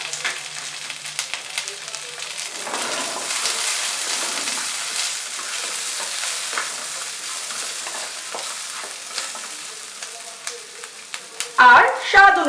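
Oregano, chili flakes and a pinch of black pepper fry in a pan for a tawa pizza sauce, giving a steady close sizzle throughout with a brief louder clatter right at the end.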